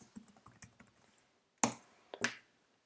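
A computer keyboard being typed on, giving a quick run of faint clicks followed by a few louder, sharper key strikes near the end.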